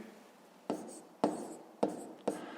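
Writing out a fifth-grade math solution, four distinct pen or chalk strokes in an uneven rhythm, close and quiet, with no talk.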